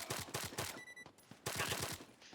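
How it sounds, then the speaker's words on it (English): Rapid automatic gunfire in the Arma 3 military shooter, quick bursts of repeated shots that pause briefly and then resume, fairly distant and moderately quiet. "You're shooting."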